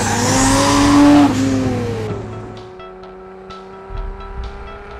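A 1400-horsepower AMS Performance Alpha 12 Nissan GT-R at Willow Springs Raceway in California roars loudly as it accelerates, its engine note sweeping upward before shifting and settling into a steadier drone, then pulling again.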